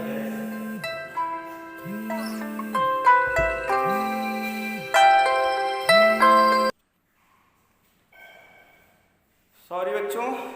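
A phone ringtone plays during an online maths class, a repeating melodic tune with rising tonal phrases looping several times, fairly loud and close, then cutting off before brief quieter tones and a final burst.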